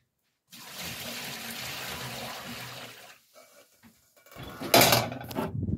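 Hot water poured from a kettle, a steady broadband rush for about two and a half seconds, then a few small knocks and a louder, brighter splash near the end; close and fairly quiet, with no talking.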